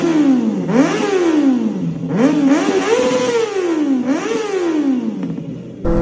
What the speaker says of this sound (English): something about this inline 4, when I rev her up